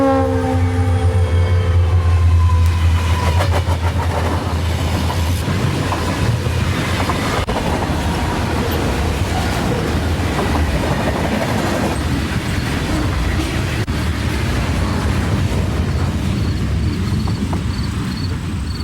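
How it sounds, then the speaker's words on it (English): Union Pacific and Cotton Belt diesel locomotives lead a northbound freight train on a line near Pendleton, a loud, close rumble with a horn early on, then a continuous roar and rattle of passing cars. "Another brace of Union Pacific and Cotton Belt power head up northbound train R313 at Mount Olive Road near Pendleton."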